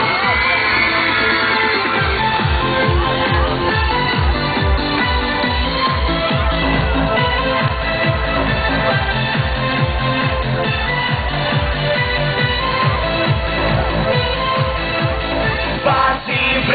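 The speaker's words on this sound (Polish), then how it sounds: "I teraz wszystkie wolne laski piszczą!" Festival crowd at a harvest celebration cheering and squealing loudly over thumping music with a steady pounding beat, the noise continuous and dense throughout.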